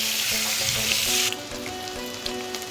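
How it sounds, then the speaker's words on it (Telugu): Eggs fry in hot oil in a pan for an Andhra egg curry, guddu pulusu: a loud, dense sizzle that is continuous and close, easing slightly partway through, with faint stirring underneath. "ఇందులో ఫ్రై చేయాలండి."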